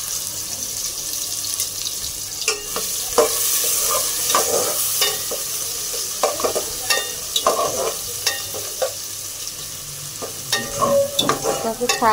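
Leafy greens fry in a hot wok with a steady loud sizzle, broken by scraping and clanking as a spatula stirs them at irregular intervals, with no talk.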